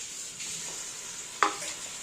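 Yellow pumpkin kootu with coconut being gently stirred in a pan: a soft steady sizzle with faint scraping, and one brief clink of the spoon against the pan near the end.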